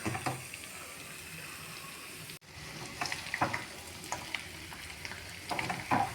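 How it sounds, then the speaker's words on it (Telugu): Mutton pieces fry in a pan while being stirred, a low continuous sizzle broken by repeated scraping and clattering strokes of a spoon, close up with no voices. "చక్కగా ఒక 2 నిమిషాలు ఇలా కలుపుతూ ఫ్రై చేద్దాం"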